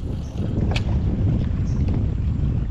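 Strong wind buffets the microphone outdoors at a waterside fishing spot, making a steady low roar that lasts the whole moment, with no voices.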